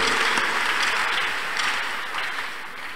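A church congregation clapping their hands together, a dense, steady patter from many people that fades slightly toward the end.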